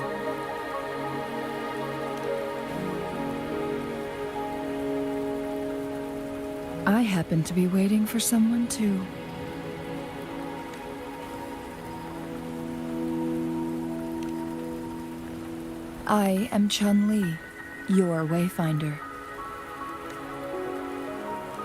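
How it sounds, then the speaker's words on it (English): Steady rain patters on surfaces in the video game Wuthering Waves, a continuous soft hiss running throughout while characters converse over it in two stretches. "Are you trapped here by the rain?"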